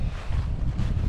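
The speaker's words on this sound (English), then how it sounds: "Could be a little less windy, but I like it." Wind gusts across the microphone outdoors at a shooting range, a brief, loud, low rumbling buffet with no other sounds.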